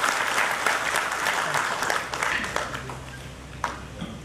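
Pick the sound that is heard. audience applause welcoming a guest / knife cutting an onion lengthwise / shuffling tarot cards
audience applause welcoming a guest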